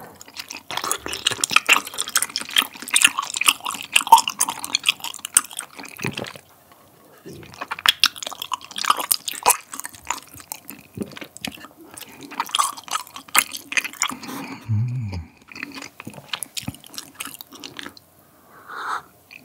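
Chinese glass noodles from malatang being chewed close up, with wet slurping and soft squishy bites in bursts separated by short pauses.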